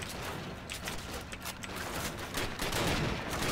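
An MG42 machine gun fires in Call of Duty: United Offensive, a dense, continuous rattle of rapid shots with sustained gunfire filling the whole stretch at steady loudness, intensifying toward the end.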